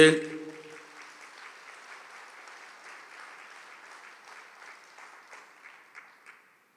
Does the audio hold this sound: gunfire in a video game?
no